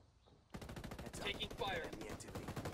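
Rapid automatic gunfire from a Ghost Recon Wildlands Ghost Wars PvP match on the Warehouse and Burnt-out maps: a dense, loud run of overlapping shots that starts abruptly after a quiet moment and continues without pause.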